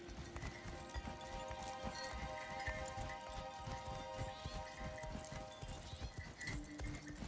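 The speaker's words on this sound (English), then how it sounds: "That was a steed." Hooves of a steed clip-clop in a steady, continuous rhythm over game music and ambience in God of War Ragnarok, with an occasional faint whinny.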